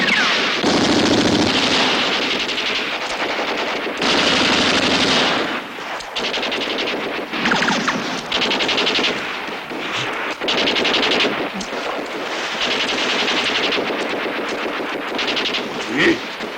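Loud, sustained bursts of machine-gun fire mixed with heavier artillery booms ring out almost without pause, with shouting voices buried in the barrage.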